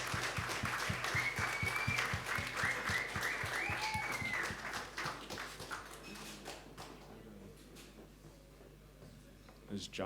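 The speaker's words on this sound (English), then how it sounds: "How about we have a round of applause for everyone?" Audience at a conference applauding, a dense burst of clapping that starts strong and gradually thins out and fades, with voices mixed in.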